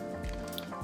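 Wet, squishy scraping of ripe avocado flesh being scooped from its skin into a bowl on a kitchen countertop, a short close soft smear with faint dripping, no talking.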